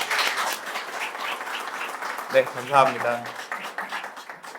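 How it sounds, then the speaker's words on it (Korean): Audience applause at the launch ceremony of a 30th-anniversary memorial committee, moderate clapping under a host's voice, with brief speech rising near the middle. "큰 박수로 시작하겠습니다"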